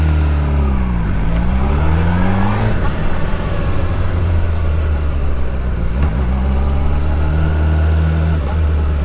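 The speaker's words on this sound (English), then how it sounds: "Slowly release the clutch while giving it gas" A motorcycle engine revving and droning as the clutch is released with throttle, with loud, close pitch sweeps rising and falling under a continuous low rumble.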